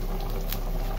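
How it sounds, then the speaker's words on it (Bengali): Duck meat curry bubbling at a boil in a pot, a close continuous burble of popping bubbles with no talking. "মাংস তো রান্না হচ্ছে মাংসের মতোই"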